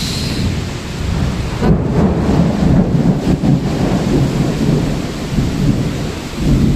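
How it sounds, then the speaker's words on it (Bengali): A sudden heavy rainstorm with strong wind pours down in a dense, loud roar, while low thunder rumbles swell through the middle, with no talk. "বৃষ্টি হচ্ছে অনেক বৃষ্টির জন্য কিছু দেখাই যাচ্ছে না অনেক বাতাস"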